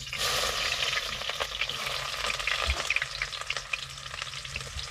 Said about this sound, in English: Yeah, so let's fry our meal.